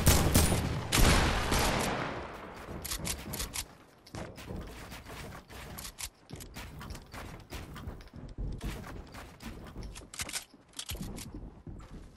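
Rapid bursts of gunfire in Fortnite crackle through a steady battle din, with loud, dense volleys at the start and scattered shots continuing throughout.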